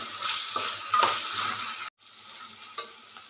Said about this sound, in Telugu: దొండకాయ ముక్కలు కూడా వేసేసుకుందాం